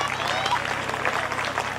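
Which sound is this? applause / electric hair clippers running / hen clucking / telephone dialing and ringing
applause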